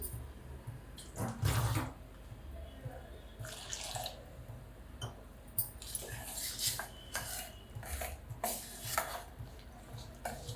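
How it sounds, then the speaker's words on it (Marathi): Water poured into a bowl of fasting dosa batter in a home kitchen, a soft splashing trickle with scattered clinks of utensils against the bowl, heard up close. "पाणी घालते त्याच्यामध्ये मी"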